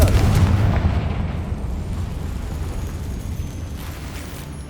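Confringo blasting spell explodes in Hogwarts Legacy, a loud booming blast up front that decays into a long rumbling tail, with no talk over it.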